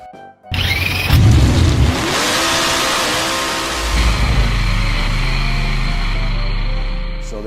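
A 1934 Ford three-window coupe engine bursts into a loud roaring rev, then drops to a deep, steady rumble with a lower throaty surge toward the end.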